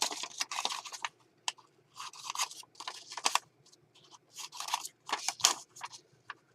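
Scissors snipping the corner off paper in a mixed media craft session, a close quiet run of short crisp cuts and rustles in uneven bursts, with no talk.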